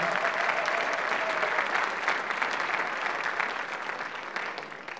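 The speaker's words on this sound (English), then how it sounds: "Alba, give them a big round of applause" Audience applause at the Pan Celtic International Song Contest, a dense round of clapping from a crowd that starts full and slowly thins and fades toward the end.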